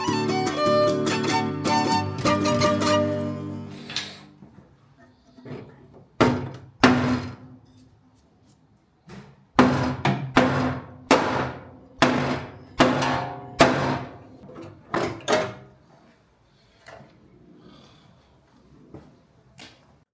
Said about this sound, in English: After some more chiseling and hammering, it finally came off.